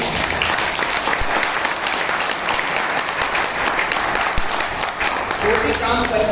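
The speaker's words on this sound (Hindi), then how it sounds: "दोस्तों ताली बजाओ तो ईमानदारी से बजाओ" Dense, sustained clapping from an audience of leaders at a training session in a Mumbai office, continuous and fairly loud for several seconds, with a voice faintly present underneath.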